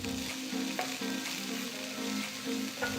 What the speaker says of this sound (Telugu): ఇందులో అర టీ స్పూన్ జీలకర్ర వేసి వేయించాలి తర్వాత చిన్నగా తరిగిన ఒక ఉల్లిపాయని కూడా వేసి వేయించాలి